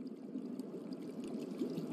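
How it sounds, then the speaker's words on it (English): Heavy rain pouring down outdoors, a steady, dense watery hiss that stays even and fairly close for the whole stretch, with no voices over it. "Ugh, it's pouring out here!"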